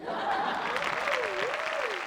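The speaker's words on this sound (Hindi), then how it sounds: "तालियां" The studio audience of a Hindi TV show claps steadily and densely for two seconds, and a sustained, wavering tonal line like a whistle or musical note rides above the applause.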